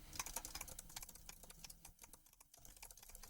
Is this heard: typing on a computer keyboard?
yes